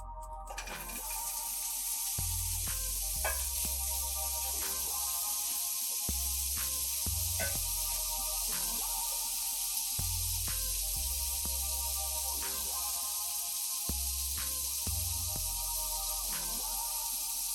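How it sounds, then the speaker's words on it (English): Sausage pieces sizzle steadily in a hot oiled pan for fried cabbage and sausage, a loud continuous crackling hiss with popping bursts, close up and with no talking. "I'm gonna drop these right in just to the sizzle."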